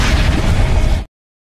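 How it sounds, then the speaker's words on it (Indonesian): Loud, dense burst of explosions from blood bombs in an anime battle, a continuous booming rumble for about a second before cutting off abruptly to silence. "Melihat tuannya dihujani dengan rentetan ledakan blood bomb"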